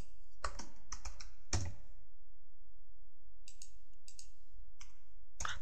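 Someone types a search on a computer keyboard in quick bursts of close, crisp key clicks, with a silent pause in the middle before another short run of taps.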